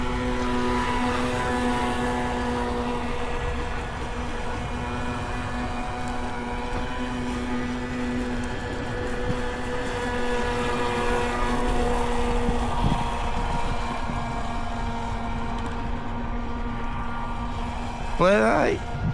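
RC boat fitted with a new ESC running on open water, its motor holding a steady high-pitched whine with harmonic overtones that rises sharply in a fast sweep near the end, heard from a distance.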